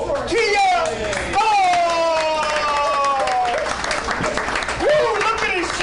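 A sports-bar crowd applauds and cheers as a singer is welcomed onto a live show. Loud clapping and whoops sit beneath an excited voice and music-like tones running through the whole stretch.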